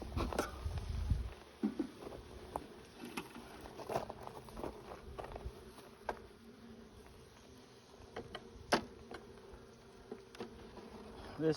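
Honeybees in a small, weak but active hive buzz faintly and continuously, with scattered brief clicks and knocks from handling the frames close by.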